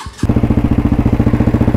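A motorcycle engine chugs steadily while riding in rain on the way to a beach, a loud, close, rapid rhythmic thumping that starts abruptly after a brief quieter moment.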